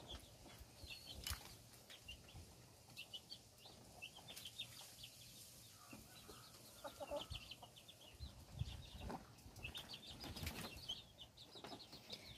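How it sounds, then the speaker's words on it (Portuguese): Chickens on a small rural farm, with scattered faint clucks and a brief flutter of wings amid quiet outdoor background, no talking. "Aí as galinhas."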